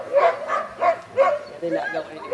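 Sled dogs at the Denali kennel bark and yowl in a quick run of close, rhythmic, voiced calls, rising and falling together like a small excited crowd.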